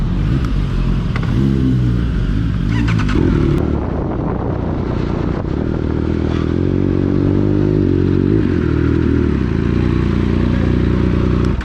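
A Triumph motorcycle engine revs loudly and steadily up close, its pitch rising and falling with throttle blips over continuous road rumble and wind, on a ride toward Istanbul Park.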